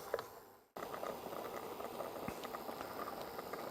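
Tomato sauce boils in a griddle pan, a steady close bubbling patter that starts after a brief quiet cut and keeps on evenly with small pops.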